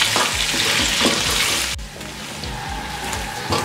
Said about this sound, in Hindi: मसाले के साथ हमने चिकन को 1 मिनट के लिए भून लिया है